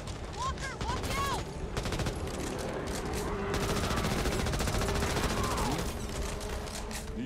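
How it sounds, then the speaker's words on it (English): Gunfire in the zombie shooter Back 4 Blood: repeated bursts of rapid shots and volleys from several weapons, loud and close, with voices talking underneath. "I'm shooting."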